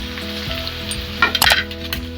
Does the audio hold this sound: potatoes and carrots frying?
yes